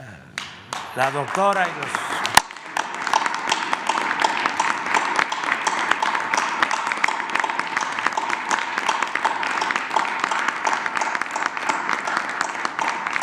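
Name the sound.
audience applause at a press conference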